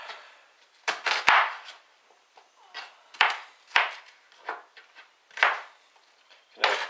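Knife cutting tomatoes into small slices for a raw tomato soup, a string of separate crisp cuts with clicks on the board, spaced unevenly and close by, with no talk.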